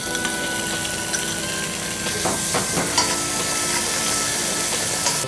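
Anchovies and garlic frying in oil in a pan, a dense continuous sizzle with a few stirring scrapes, close and fairly loud with no talking.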